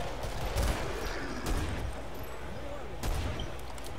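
Dual hand cannons fired in the co-op shooter game Killing Floor: three heavy, booming shots spaced about a second apart, sharp and close, over a continuous background rumble of game noise.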